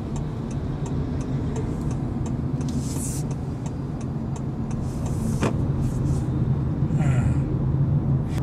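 Steady road and engine noise fills the cabin of a Honda Step WGN Spada Modulo X minivan on a drive, with a faint regular ticking and a few brief clicks over the constant hum.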